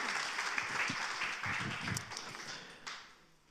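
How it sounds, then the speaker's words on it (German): Audience in a German church service bursting into applause after a sermon point, a dense spread of clapping that holds steady and then tapers off over a few seconds. "Applaus."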